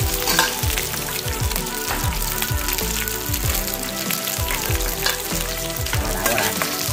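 Fish fries in hot oil at a sea fish-farm raft, a loud, dense crackling sizzle with sharp spattering pops running continuously throughout.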